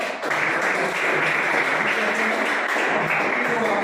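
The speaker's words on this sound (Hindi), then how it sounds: "एक बार अपने शिक्षकों के लिए ताली बजाइए।" A room full of students applauding their teachers at an orientation session, clapping steadily and loudly for several seconds, a dense continuous wash of applause with no pauses.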